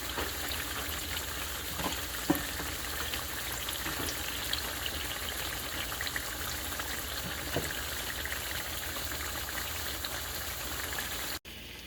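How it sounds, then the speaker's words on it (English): Steady, even sizzle of tofu frying in a pan, with a few soft clicks and pops, continuous throughout at a moderate, close level. "And after frying them for about 5 minutes on either sides"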